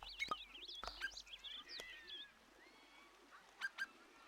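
A bird in We Love Katamari chirps in a quick run of high twittering notes, then a few sparse tweets follow, faint and light over a quiet background with occasional clicks.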